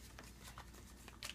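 Playing cards from the Eminent Domain deck-building board game are shuffled, a faint, brief papery riffle and a few soft snaps near the end, close by but quiet.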